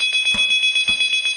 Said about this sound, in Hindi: एक डार्क स्टोर में फोन की घंटी बजती है।